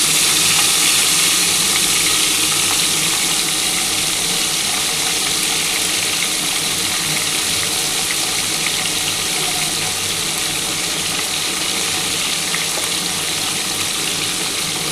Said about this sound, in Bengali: এবার এই তেলের মধ্যে আমি কিন্তু ফুলকপিগুলো ভেজে নিচ্ছি।